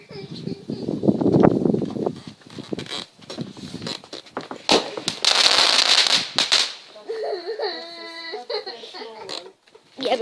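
A small firework sparkles and crackles in bursts of sharp pops and hissing, while people talk and a voice rises over it nearby.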